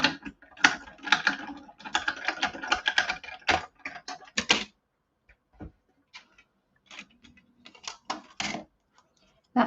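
A die-cutting machine running a craft die through, producing rapid clicking and ratcheting mechanical clatter in dense bursts, then sparser clicks and pauses, close up, with occasional talk.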